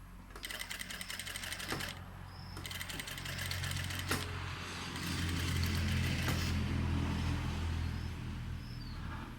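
A sewing machine stitches fabric for a sarong in short close bursts of rapid mechanical clatter, then a steadier low motor hum, with someone talking quietly.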